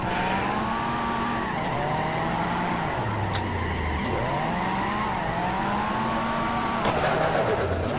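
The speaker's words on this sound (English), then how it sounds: "I like the turbo sounds." A car drifting in the CarX Drift Racing video game, engine tones rising and falling with turbo whooshes and tire squeal, loud and continuous, a short burst of rattling near the end.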